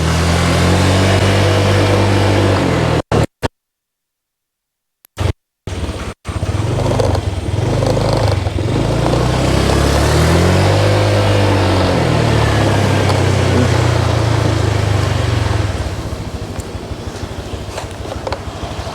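A cheap small motorbike, a Honda Click or Keeway scooter, ridden around on a short spin in the Philippines, its steady close engine drone rising and falling with throttle, broken by brief dropouts near the start and easing off toward the end.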